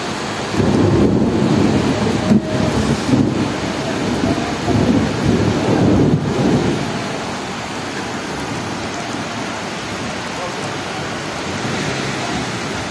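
A heavy downpour in Robledo and San Cristóbal roars steadily, with deep thunder rumbling loudly through the first several seconds before the rain continues alone as a dense, constant wash.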